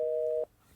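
A single steady telephone tone sounds after a call is cut off, then stops abruptly, leaving only faint background noise.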